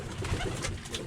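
Birmingham roller pigeons coo softly in a low, throaty murmur, with a few rolling coos close by against a busy loft background.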